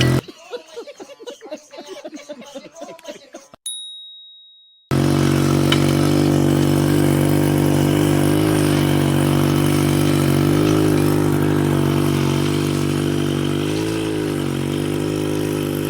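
After a moment of talk and a gap, the small petrol engine of a mini tractor runs steadily up close with a droning, throbbing hum that barely changes.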